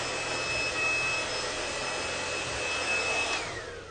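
A hair dryer on a high heat setting blows with a steady, loud whoosh and a thin high whine, easing off slightly near the end.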